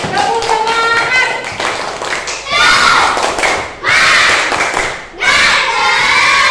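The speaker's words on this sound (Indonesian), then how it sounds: "Tepuk tangan untuk kita semua." A group of children in a classroom clapping and cheering together, loud bursts of rhythmic clapping with excited shouts and voices, coming in three surges separated by brief dips.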